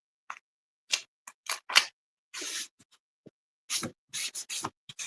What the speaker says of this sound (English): I'm going to hand cut this piece